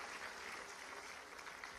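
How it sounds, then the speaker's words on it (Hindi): A crowd applauds at an award ceremony honouring Olympic and Paralympic medal winners, a brief, fairly faint burst of steady clapping. "जोरदार तालियां बजाओ"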